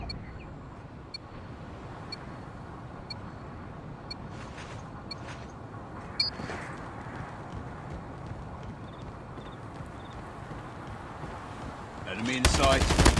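Gunfire in a shooting video game: scattered distant shots and thuds over a constant noisy backdrop, ending in a loud, rapid burst of close automatic fire.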